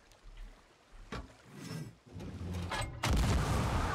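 Several booming ship cannon blasts in the pirate game Sea of Thieves, spaced unevenly, with a louder sustained roar of wind and water building toward the end; no speech.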